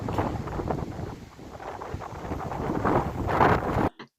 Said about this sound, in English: The sound of the wind in the trees